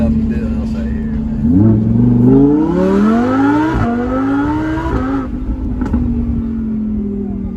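A supercharged Lamborghini Huracan Evo with a VF Engineering kit accelerating on a test drive, its engine note climbing through gears in rising sweeps with a brief shift dip, heard from inside the car under a steady loud drone.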